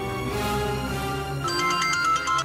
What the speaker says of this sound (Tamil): miss call வந்துருச்சுடா